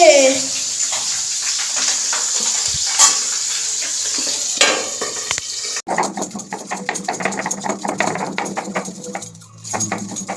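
Fish fry in hot oil under a lid, giving a loud continuous sizzle with spattering, then a rougher bubbling hiss with clattering once the lid shifts.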